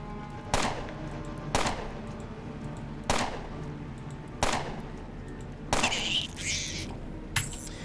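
Gunshots in the Underrail video game during bullet-time combat, four evenly spaced sharp reports about a second and a half apart, followed by a crunchier impact and a final faint shot, moderately loud with no talking.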